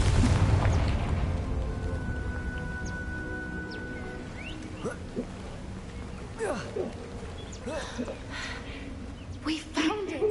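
A Confringo fire spell explosion in Hogwarts Legacy, a loud low boom at the start that fades into a rumbling tail, followed by scattered small crackles and chirps in the game's ambience.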